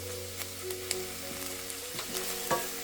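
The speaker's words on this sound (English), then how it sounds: "Add the roughly chopped ginger and garlic. Saute them" Roughly chopped ginger and garlic sautéing in a pan with a sprinkle of salt, a quiet steady sizzle with scattered soft stirring taps, heard close over a faint tonal hum and without any voices.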